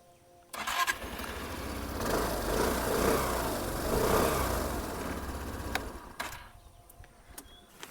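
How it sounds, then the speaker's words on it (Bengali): A 2026 Suzuki Burgman 125 scooter's engine starts and runs for several seconds with steady exhaust noise, swelling into a couple of revs near the middle before settling and cutting off. The engine sound is close and moderately loud, with no voices. "এবার যখন সুজুকির যে এক্সস্টের সাউন্ড সেটাও আমি আপনাদেরকে দেখিয়ে দিচ্ছি"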